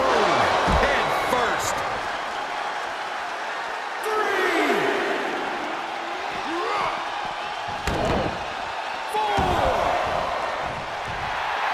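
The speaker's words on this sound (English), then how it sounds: "The sound of this crowd is deafening" Loud arena crowd cheering in the NBA 2K22 basketball game, a sustained roar that swells in waves, with sharp slams or bounces cutting through and a commentator talking over it.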